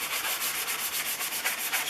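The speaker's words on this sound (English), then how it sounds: "Moving on to the sanding sponge, get it nice and light" A sanding sponge is rubbed lightly over a Stanley No. 35 Type 3 wooden plane in steady back-and-forth strokes, a soft, hissing scrape repeated at an even rhythm, close and fairly quiet.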